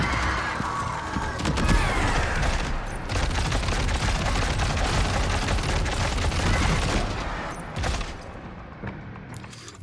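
Rapid, dense bursts of gunfire blasting ice pillars in Death Stranding 2, loud and sustained with crashing impacts, thinning out near the end.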